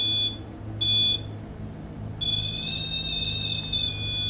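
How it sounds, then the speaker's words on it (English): High-pitched electronic alarm tones from a proximity sensor: two short beeps, then a sustained steady tone, loud and close over a low hum. "If anything interrupts it, it alarms"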